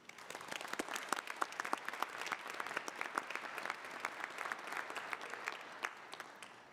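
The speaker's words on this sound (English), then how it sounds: "Let's give a round of applause to all of our PMBA awardees." Audience at a graduation recognition ceremony gives steady applause for the awardees, a dense, even patter of many hands clapping that holds for several seconds, moderately distant.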